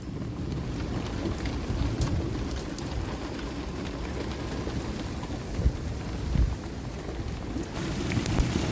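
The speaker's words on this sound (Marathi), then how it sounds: "एकदम जोरात आला पाऊस" Heavy rain pours steadily with a dense roar during a windy storm in Mumbai, while low rumbles of thunder rise and fade a few times in the background.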